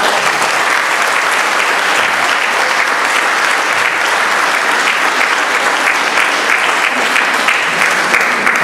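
Sustained applause from an audience at a youth music school band concert in Fubine, a dense, steady clapping that fills the hall at even loudness from start to finish.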